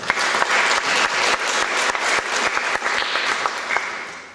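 An audience at a Pecha Kucha talk in Oulu gives loud, dense, sustained applause that fades slightly toward the end.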